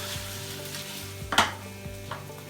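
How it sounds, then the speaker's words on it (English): Jalapenos and onions pan frying, a soft steady sizzle with a low background hum, broken by one sharp clatter of a utensil and a couple of lighter taps. "So we're gonna pan fry this a little bit."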